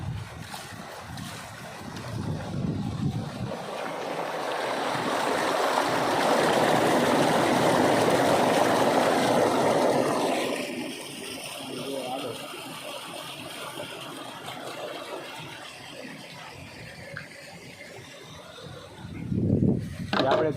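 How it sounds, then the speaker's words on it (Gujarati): Pumped water pours into a farm tank, a broad rushing splash that swells louder midway and then eases, with a brief voice near the end. "આમાં જાય પાણી ટાંકામાં."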